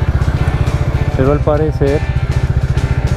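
Motorcycle engine idling while parked on a street in Cali, Colombia, a loud, steady low throb with a voice speaking briefly over it.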